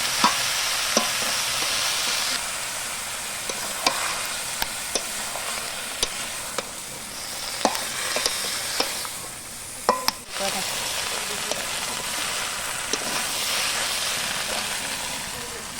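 Boiled young jackfruit and prawns frying in a pan for a Bengali curry, a loud continuous sizzle and hiss broken by frequent sharp scrapes and knocks of a spatula stirring, with no talk.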